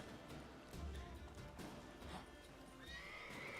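A horse in The Witcher 3 video game gives a clear whinny and neigh, with hoof clip-clops and light in-game ambience around it.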